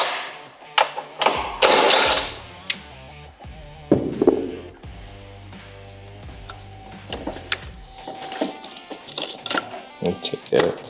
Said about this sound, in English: To do that, I'm going to remove these 2 bolts right here.